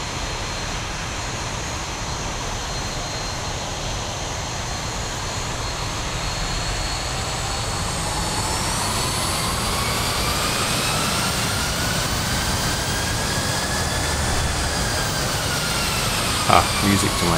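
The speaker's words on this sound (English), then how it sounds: "Sounds like a real jet, doesn't it?" Boeing 737 jet engines spooling up in X-Plane 11 with the Zibo mod and AudioBirdXP sound pack, a loud steady roar with a slowly rising whine that climbs in pitch, continuous throughout.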